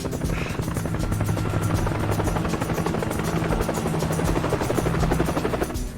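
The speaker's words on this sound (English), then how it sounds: "I can hear a helicopter. That's good, William. It's getting closer" A helicopter's rotor thuds steadily throughout, a dense rapid chopping that stays loud and close with a constant engine drone beneath.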